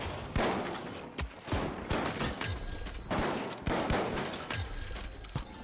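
Sniper rifle shots in The Finals, a series of sharp loud cracks spaced about a second apart, with game noise between them.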